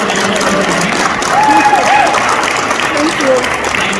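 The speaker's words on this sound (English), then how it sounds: "So let's give her a round of applause." A crowd at a disability rights awareness event at a state capitol gives steady applause, loud and continuous, with a few voices and cheers rising above the clapping.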